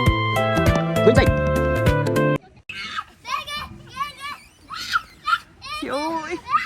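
At an indoor children's play centre, a chaotic stretch of music and clanging toys gives way to children shrieking and screaming in high, repeated bursts, with kids' voices chattering among them.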